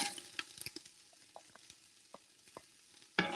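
One large chopped onion and three cloves of garlic cook in a pot, giving soft, scattered pops, crackles and faint sizzling with a louder clatter near the end.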